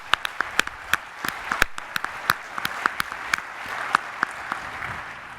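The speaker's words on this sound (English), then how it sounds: "let's give a round of applause for this achievement" Scattered handclaps from a modest audience at a corporate conference main-stage award moment, with distinct individual claps ringing out unevenly over a quiet room.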